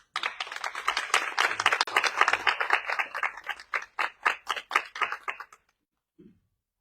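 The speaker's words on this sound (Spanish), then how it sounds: "el escritor Jesús González Mendoza, para quien pido también un aplauso." Audience applause at a book presentation about the huarache in Tacámbaro, a small group clapping close by with distinct individual claps that thin out and stop, followed by silence.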